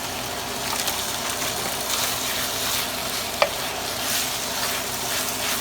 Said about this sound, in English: Now all we're doing is stirring this in.